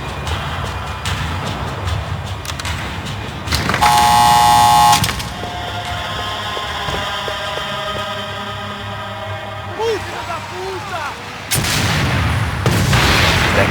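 Rapid bursts of gunfire from the video game Max Payne 3, loud staccato volleys around four seconds and again near the end, with lighter shots and game noise between.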